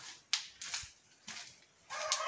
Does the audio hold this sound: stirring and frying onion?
no